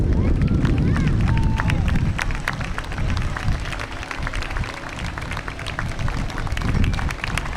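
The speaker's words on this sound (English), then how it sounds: "you can hear the crowd" Sustained applause from a large outdoor crowd at a Memorial Day parade as veterans ride past in cars, steady and continuous, with scattered voices and some wind noise mixed in.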